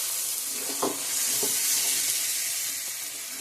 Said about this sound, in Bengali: এখন গরম জল এক করে দিয়ে দেবো